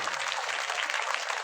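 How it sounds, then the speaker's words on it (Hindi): A crowd claps at an event in India, a dense, even roar of many hands that stays steady from start to finish with no voices over it. "ताली।"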